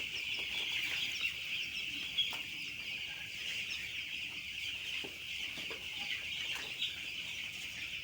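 Broiler chickens in a farm shed cluck and chatter as a flock, a constant faint, distant murmur of many birds with occasional louder calls and wing flaps, no voices.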